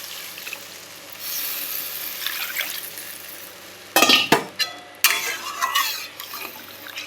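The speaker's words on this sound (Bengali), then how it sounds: "এই যে বেশি পরিমাণের জলটা এবার দিয়ে দিই" Water poured into a pot of fish curry with potato and pointed gourd, bursts of splashing and sloshing after a stretch of quieter stirring and pot clatter.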